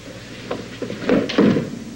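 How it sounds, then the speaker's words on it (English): A door is pushed shut indoors with a couple of dull, moderately loud thuds and a soft latch knock over a low room hum. No one speaks. "Close the door."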